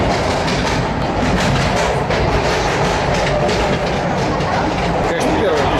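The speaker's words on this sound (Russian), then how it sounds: "Метро." Metro train running on its track, with a steady rumbling roar and a rapid clickety-clack of wheels over rail joints, loud and close throughout, heard from inside the carriage.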